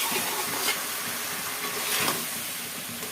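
Onion, spring onion leaves, cauliflower and green chilies fry together in a pan, a steady close hiss of sizzling oil with soft stirring bumps and no voices.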